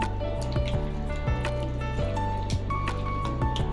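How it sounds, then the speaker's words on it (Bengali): Rose water and kewra water poured over chicken marinating for a Bengali dish, heard as a steady run of close drips and wet splashes landing in the bowl, with a low hum underneath. "এরপর দিয়ে দিল গোলাপ জল আর কেওড়া জল"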